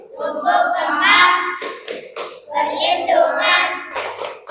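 Children in a classroom perform a rhythmic clap chant, with bursts of hand claps mixed with their chanting voices, close and lively.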